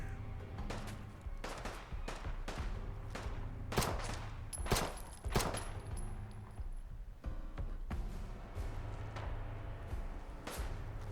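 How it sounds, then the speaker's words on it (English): Repeated gunfire in Fallout London hits at the player from a distance, a string of sharp shots and bursts spread unevenly across the stretch over a low game ambience, with no talk. "who's shooting me from way over there?"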